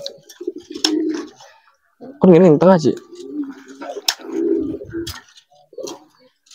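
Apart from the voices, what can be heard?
pigeons cooing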